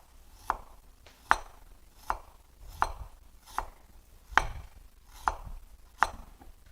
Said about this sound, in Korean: 오늘은 생강즙을 내지 않고 채를 썰거나 아주 얇게 편을 썰 겁니다